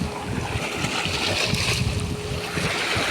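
Surf building at the shoreline, a broadband wash with wind buffeting the microphone and a steady low rumble, loud and continuous; brief voices come through faintly.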